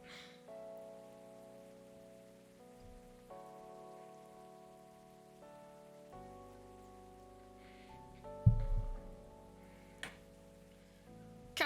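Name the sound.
rain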